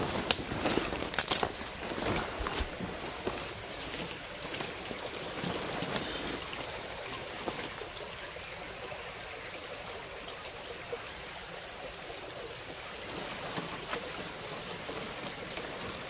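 A large river flowing, a steady broadband rush of water that stays constant and moderately loud throughout, with no talk over it.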